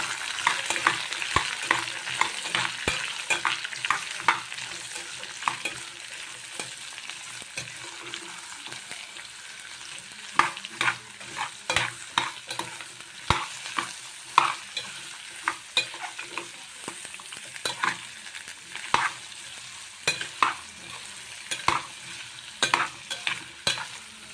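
Carrot and radish stir-fry in a pan, a continuous close sizzle cut by frequent rapid scrapes and clacks of a spatula that grow busier and louder in the second half, with no talking.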